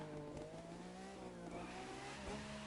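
A car in The Crew 2 slides through a long, tight mud drift up a hillside, its engine droning steadily with shifting revs and a faint tire hiss underneath, close and continuous with no talking.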